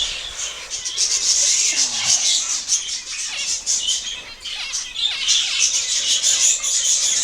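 Zebra finches in an indoor aviary, a busy stream of high chirps and tweets with occasional wing flutters and scratching, fairly close and continuous.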